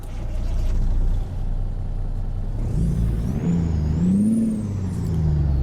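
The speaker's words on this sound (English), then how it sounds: "Let's start up the engine and see what it sounds like." An International 9900i truck engine in American Truck Simulator starts up: a steady low rumble with a hiss, then the cranking catches and the idle rises with a whining tone and wavering pitch, loud and close with no talking.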